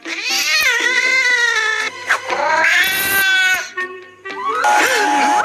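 A cartoon cat meows loudly and insistently, several long drawn-out wails in a row, close up with short pauses between them.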